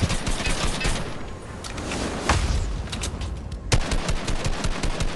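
An overpowered shotgun fires in an online video game, a dense, loud, unbroken string of blasts and impacts.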